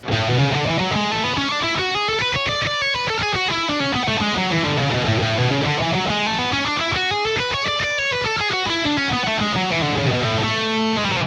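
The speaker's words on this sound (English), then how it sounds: "You could take like a 3-note per string pattern like this one and alternate between picking" Fast electric guitar runs in a three-note-per-string pattern sweep up and down in continuous rising and falling patterns, alternating between picked and smooth legato phrasing, loud and steady throughout.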